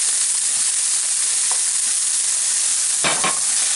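Tomato puree being stirred into a bolognese sauce in a pan, with a steady frying sizzle throughout and a couple of brief scraping stirs near the end.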